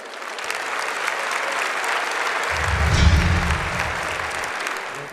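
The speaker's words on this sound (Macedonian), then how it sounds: "Да ги поздравиме со аплауз" Sustained audience applause at the Zlatna Bubamara 2020 popularity awards ceremony, a dense wash of many hands clapping that swells toward the middle with a low rumble of crowd noise, then eases off.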